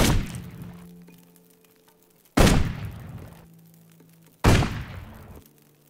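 Three loud, sharp gunshots from the game Risen 2, spaced about two seconds apart, each a sudden crack that trails off into a long fading echo with no talk over them.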